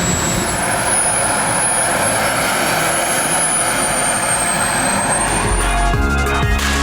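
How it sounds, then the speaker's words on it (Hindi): A jet aircraft engine running nearby, a loud steady roar with a high whine that stays continuous throughout, with no talk over it. "इस वक्त जहाज़ स्टार्ट है और यहाँ तक हीट आ रही है उसकी।"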